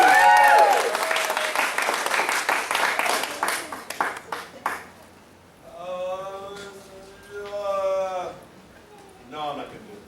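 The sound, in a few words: audience applause and cheering at belt ceremony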